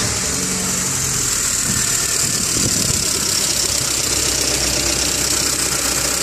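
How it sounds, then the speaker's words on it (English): A 1988 Honda CRX engine idles steadily in neutral with a light, rapid valve-tapping tick running through the constant mechanical drone, close and loud, with no talk. "You hear that valve tapping."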